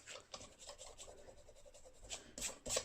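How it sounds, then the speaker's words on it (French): An eraser rubbed back and forth on paper for a scrapbooking portfolio, a steady, soft rasping scrub in short repeated strokes, close and quiet, with a couple of firmer scrapes near the end. "j'ai un petit coup de gomme à mettre"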